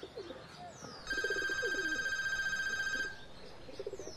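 An old landline telephone rings in a house, one sustained electronic trill of about two seconds, loud and close, with birds cooing in the background.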